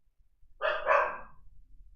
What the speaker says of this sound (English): this might be a long drawn out barking experience